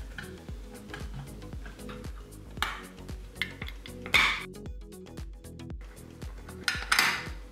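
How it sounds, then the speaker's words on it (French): A hammer drives a nail to punch small holes in a DIY craft piece, a steady run of close, sharp metallic taps repeating roughly twice a second, with a few louder strikes and no talking. "vais m'aider d'un clou et d'un marteau"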